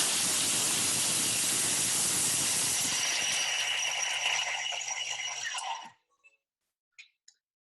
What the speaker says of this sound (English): So 5 seconds to mill those almonds